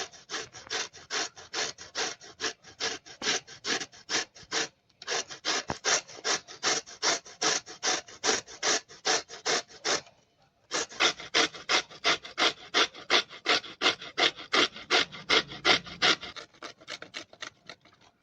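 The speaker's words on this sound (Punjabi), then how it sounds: "ਚੁਕੰਦਰ ਨੂੰ ਆਪਾਂ ਛਿੱਲ ਕੇ ਧੋ ਲਿਆ ਚੰਗੀ ਤਰੀਕੇ ਨਾਲ ਤੇ ਹੁਣ ਇਹਨੂੰ ਕਰ ਲੈਣਾ ਜੀ ਕੱਦੂਕਸ਼" Peeled beetroot is grated by hand on a grater for halwa, a close rhythmic run of rasping strokes in three bursts with brief pauses between them.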